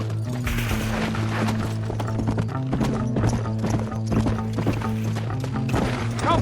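A horse gallops in Red Dead Redemption, its hooves pounding in a fast, continuous clip-clop rhythm, loud and close over a low droning music bed.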